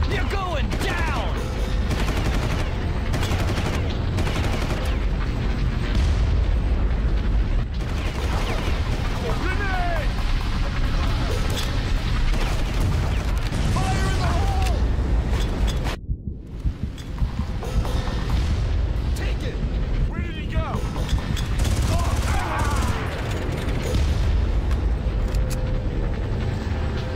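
Gunfire and explosions from Far Cry (2004) crackle almost without pause, dense bursts of shots and booms layered loud and close, with voices shouting over the fighting.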